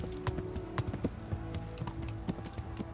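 A horse's hooves clip-clop in a quick, steady galloping rhythm in the video game Kingdom Come Deliverance, close and clear with no talk over them.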